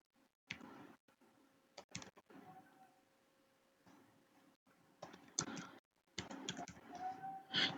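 Fingers type on a laptop keyboard in quick bursts of soft key clicks, separated by short pauses, close to the mic and fairly quiet, with no speech.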